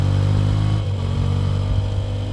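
Motorcycle engine on the Nürburgring Nordschleife, droning close and loud with a steady rev that dips briefly and then carries on without talk.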